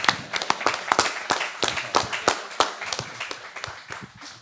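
A live audience claps for a guest at an anniversary show taping, with sharp, individual hand claps in an irregular rhythm that gradually thins out, close and fairly loud.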